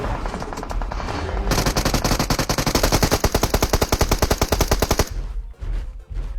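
Sustained automatic gunfire in a shooter video game, a dense rapid burst of shots running for several seconds without a break, loud and close, with no talk over it.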